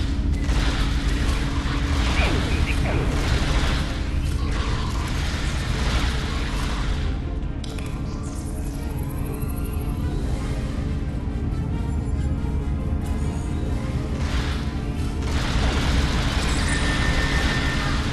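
Disruptor weapon fire in the space game Star Trek Online, heavy booming blasts and mechanical clatter repeating loudly over a dense roar, with a brief lull midway before the barrage resumes.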